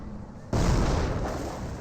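A landmine detonated by a mortar round in the strategy game Company of Heroes, a sudden loud explosion that bursts in after a quiet start and leaves a sustained, rumbling blast wash trailing off.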